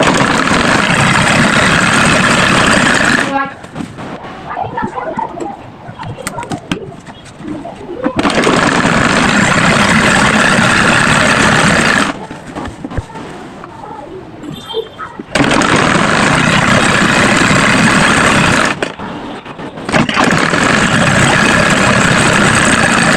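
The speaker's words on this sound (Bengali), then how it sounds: "এবার আমি 7 ইঞ্চিতে একটা লম্বা সেলাই দিয়ে নেব, পুরোটা ঘুরিয়ে সেলাই দিয়ে নেব।" A sewing machine runs a long 7-inch seam around a salwar garment, whirring loudly and steadily in long continuous bursts separated by short quieter pauses.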